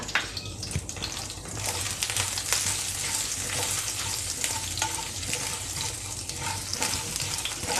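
Cumin seeds frying in hot oil for ladyfingers masala, a dense close crackling sizzle with sharp pops and spatters throughout, fairly loud and steady, no voices.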